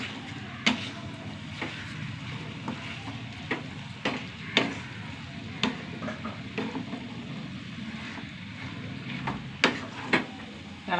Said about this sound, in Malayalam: ഇളക്കിയെടുക്കട്ടെ ഞാൻ.